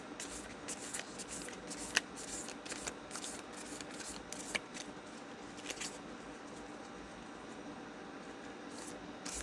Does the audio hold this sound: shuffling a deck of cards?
yes